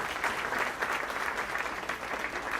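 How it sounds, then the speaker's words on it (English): Steady crowd applause at a live election-night event for Bexar County judge results and Texas primaries, with dense clapping that runs continuously and fairly loud throughout. "let's give everybody a round of applause and appreciation for what they've done"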